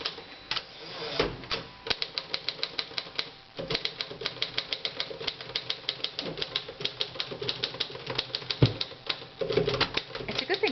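A manual typewriter clacks in quick, uneven bursts of keystrokes with short pauses, close and crisp, and heavier thumps that may be carriage returns.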